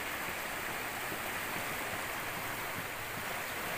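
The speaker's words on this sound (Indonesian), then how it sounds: "Bentang Sungai Ayung." The Ayung River near Denpasar, Bali, rushes in a constant broadband roar, close and even throughout, with no voices.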